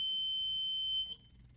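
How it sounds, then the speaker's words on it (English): An ultrasonic backup distance sensor gives a single steady high-pitched electronic tone lasting about a second, then cuts off, leaving faint background noise. "as you get closer to the distance sensor, it turns yellow, starts beeping"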